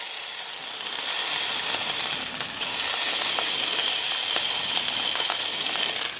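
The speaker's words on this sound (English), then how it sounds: "Entire way around, you want to get that nice sear going." Beef pot roast searing in a hot pan gives a loud, steady sizzle with scattered crackles and pops throughout, with no talking.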